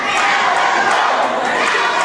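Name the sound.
wrestling show crowd cheering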